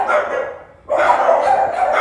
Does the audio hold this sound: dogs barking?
yes